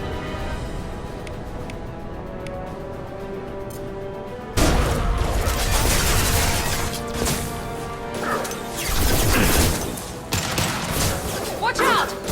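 A heavy concussive shot in Mass Effect 2 lands as a sudden loud blast, then crashing impacts and clattering follow, with combat voices mixed in.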